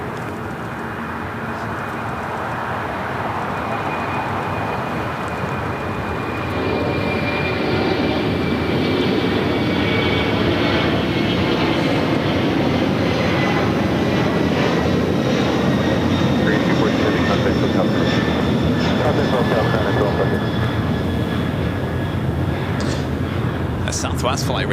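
A Southwest Boeing 737 MAX 8 jet at LAX gives off a steady, loud roar with a high engine whine. The sound swells after a few seconds and stays broad and continuous throughout.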